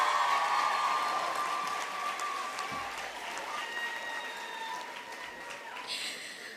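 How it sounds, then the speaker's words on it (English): A graduation audience at a university ceremony in Windhoek claps in a broad, moderately distant round of applause that gradually fades. "Let's give them a round of applause."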